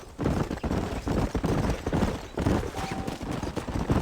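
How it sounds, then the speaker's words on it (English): Horses in Red Dead Redemption clatter past in quick, overlapping hoofbeats, loud and close, with a whinny and some gunfire-like cracks mixed into the busy scene. "There's the horses!"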